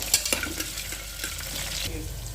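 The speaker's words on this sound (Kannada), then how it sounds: "ಆನಿಯನ್ ಫ್ರೈ ಮಾಡಬೇಕು" Onions frying in a pan with hot whole spices (cinnamon, cloves, cardamom, bay leaf) for tomato rice, a steady close sizzle with a few sharp spatula scrapes and clicks near the start, no talking.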